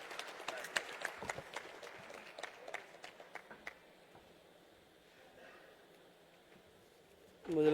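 Audience clapping welcomes a guest at a Rajasthan tourism event, a scatter of claps fading after a few seconds to a quiet room, before a voice begins at the end.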